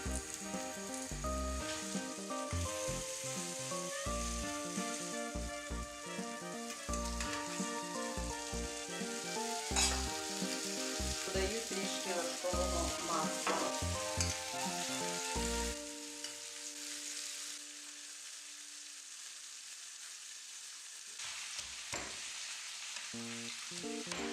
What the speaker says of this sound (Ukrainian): Викладаю на розігріту сковорідку.